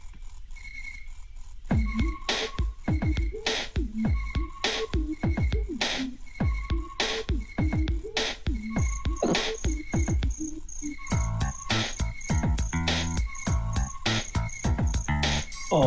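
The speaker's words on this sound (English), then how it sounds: "Oh man, that cricket is jamming out." Cricket chirps in the Horror Manor level music from the Wario World video game: steady rhythmic chirping woven into a spooky, bouncy tune with croaking beats, looping continuously and loud, with no talking.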